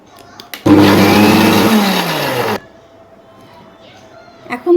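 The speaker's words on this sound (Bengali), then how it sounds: "সবগুলো উপকরণ আমি আরেকটু ব্লেন্ডার করব।" An electric blender whirs loudly at close range for about two seconds, mixing cake batter with vanilla essence, then cuts off abruptly. Small handling sounds follow, with quiet background between them.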